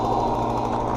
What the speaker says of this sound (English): here we are looking at some gas-powered blowers. They're loud, they're obnoxious, they work.